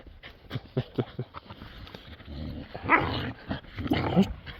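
Dogs close by give short barks and rough growling, with heavy breathy panting in between, loud and uneven.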